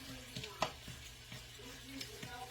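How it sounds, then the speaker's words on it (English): Chicken browning in a fry pan gives a faint, low sizzle broken by occasional clicks and scrapes of a spoon, quiet and close throughout. "don't want to cook the chicken in here in the fry pan. I just want to brown it."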